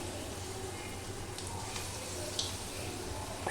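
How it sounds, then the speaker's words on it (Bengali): Ripe banana peel fritters fry in oil over medium heat, giving a steady, even sizzling hiss over a low background hum with no breaks. "এই যে এইভাবে ভাজছি"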